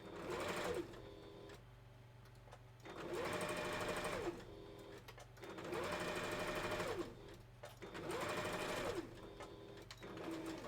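A sewing machine stitching through fabric runs in four long, even bursts with short pauses between them, a steady mechanical whir close and clear throughout.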